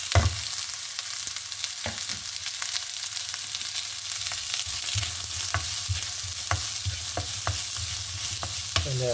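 A large chopped red onion fries in a pan, giving a constant close hiss of sizzling broken by sharp clicks and scrapes as it is stirred, with no voices.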